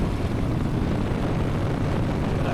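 The engine of a flexwing microlight aircraft drones steadily at close range, a dense broadband roar with no talk.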